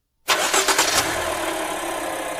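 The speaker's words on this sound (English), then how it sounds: "Now turn the key clockwise all the way, and as soon as you hear the engine start, release it." A car engine started with a turn of the ignition key, catching abruptly with a brief cranking burst, then settling into a steady, loud idle close by.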